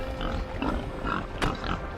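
A pig grunting in the video game Chef RPG, a few low, rough oinks over a steady game soundscape with a short sharp click partway through.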